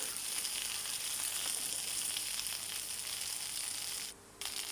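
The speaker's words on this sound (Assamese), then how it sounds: "ভেন্দিখিনি অকণমান ভাজি ল'ব লাগিব।" Okra fries in mustard oil, giving a soft, steady sizzle close by with a brief drop near the end, and no voices.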